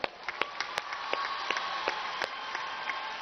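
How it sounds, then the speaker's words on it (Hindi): An audience in a college hall applauds dental students with a fairly even run of claps at moderate distance, sharp individual hand claps standing out over a soft wash of clapping. "चलो एक बार इनके लिए ताली बजाओ भाई"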